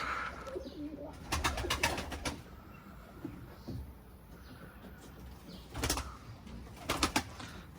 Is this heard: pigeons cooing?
yes